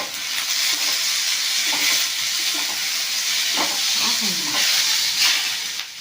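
Tomatoes sauté in hot oil in a pan with ginger and garlic, a steady loud sizzle with occasional stirring scrapes, close by and without talk.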